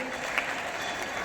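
Brief burst of clapping from an audience for children at a stage event, steady broadband applause with crowd noise throughout.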